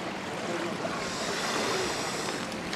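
Steady broadband wash of sea waves breaking on a shore, continuous and fairly loud with no clear individual crashes, heard alone without voices.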